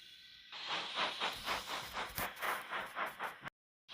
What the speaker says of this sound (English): Then the driver blew his whistle and Edward puffed away.